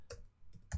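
A URL being typed on a computer keyboard: a few quick, close key clicks in a brief burst, with a short gap between them.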